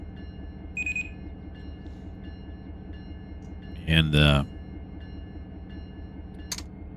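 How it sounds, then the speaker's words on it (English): An end-of-train device beeps in Run 8 Train Simulator, a short electronic tone standing out over a steady low rail rumble, followed by a single word spoken quietly. "That was the EOT that you heard beep there"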